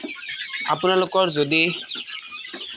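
Local chickens, about 49 days old on a poultry farm, let out a few close, loud bursts of clucking. Someone talks between the calls.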